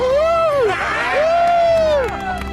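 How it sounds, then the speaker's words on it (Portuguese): Spectators at an adapted motocross event cheer as a rider stops. Loud whoops and sliding shouts ring out close by over a bustling crowd, with scattered clapping mixed in. "Quando ele para, todos aplaudem, comemoram."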